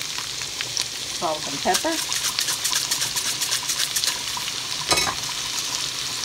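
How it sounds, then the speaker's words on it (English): Peppers and onions sauté in a hot pan with a steady, close crackling sizzle, and a short bit of speech comes over the frying. "I'm just gonna put them on the corner there and let them saute"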